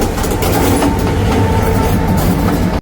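The early-morning Colombo train hauled by an M6 diesel locomotive rolls into Kalawewa station with a loud, steady rumble and rhythmic wheel clatter on the rails. No voices are heard.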